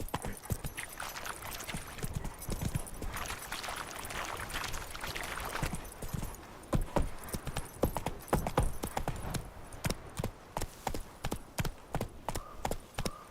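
Roach, Geralt's horse in The Witcher 3, gallops along with steady hoofbeats that start as a rapid, dense clatter and then thin out into evenly spaced, louder clip-clops near the end.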